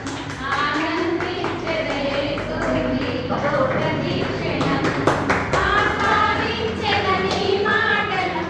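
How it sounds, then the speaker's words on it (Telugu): Clapping rings out at the opening of a mobile phone shop. The applause is steady and crowded, and voices and cheering carry over it throughout. "claps claps"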